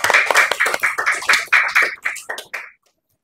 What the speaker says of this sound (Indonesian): Sekali lagi beri tepuk tangan dulu untuk semuanya